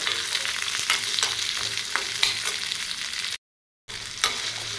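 Tomatoes fry with chicken in a pan for a chicken gravy, a close, steady sizzle with stirring scrapes that cuts out briefly to total silence before resuming.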